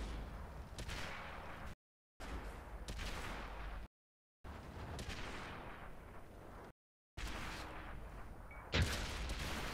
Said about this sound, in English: We're gonna shoot from here.